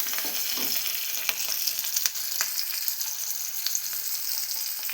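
Onions sauté in a pan for a cauliflower and soya chunk gravy, giving a continuous crackling sizzle broken by sharp spatula scrapes and taps now and then, close and moderately loud.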